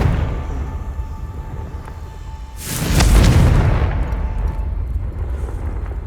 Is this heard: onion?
no